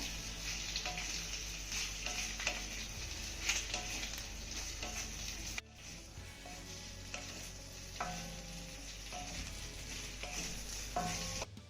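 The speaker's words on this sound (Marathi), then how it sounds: "त्यानंतर 2 मिनिटं ह्या वड्यांना आपल्याला चांगल्या परतून घ्यायच्या" Rice flour khichu pieces tossed with red chili powder in a pan, giving a steady close sizzle with repeated scraping stir strokes and light clinks, briefly cut near the middle before the frying resumes.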